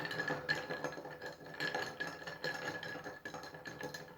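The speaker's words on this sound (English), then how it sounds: "And now we are going to stir." Ice rattles and clinks against a glass as an Old Fashioned cocktail is stirred, a quick, irregular run of close, bright knocks with no talking.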